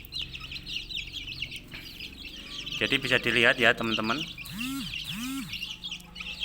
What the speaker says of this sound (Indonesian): Ini ayam hampir masuk usia 1 bulan ya teman-teman.